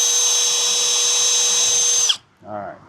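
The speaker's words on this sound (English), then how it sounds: "Pre-drill your hole." A power drill pre-drills a hole through a vinyl rail of a TimberTech Classic Composite Series railing, whining steadily at high speed for about two seconds before cutting off abruptly, followed by a short low rattle.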